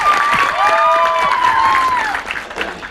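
A live audience at a stage event with the cast of the Gujarati film Lalo applauds loudly and steadily for about three seconds, a dense close crowd clap with some cheering.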